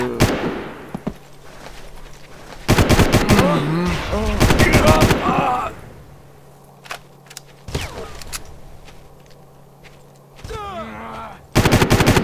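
Gunfire in the Far Cry video game as a sniper is taken out: repeated loud bursts of rapid automatic shots in several clusters, separated by quieter stretches with a voice and ambient noise.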